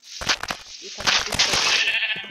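Sheep in the video game Minecraft give a couple of close, nasal bleats, a short one followed by a longer drawn-out cry, with no talking.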